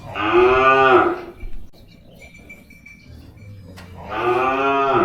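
Cattle moo loudly and close by at a cattle and buffalo market in Tak, Thailand, two long bellowing calls separated by a quieter gap with faint background noise.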